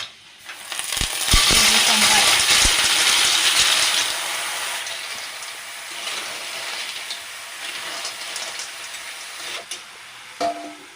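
Snails tipped into hot oil in a wok with onion and gravy, giving a loud burst of hiss and sizzle with a few sharp clatters at first, then settling into a steady softer frying hiss.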